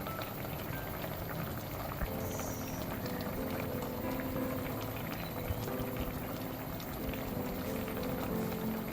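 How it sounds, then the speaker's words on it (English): Kerala fish curry simmers in a mud pot, a faint, steady low bubbling and burbling that runs evenly throughout with no talking. "the mud pot and cook the fish until it is done"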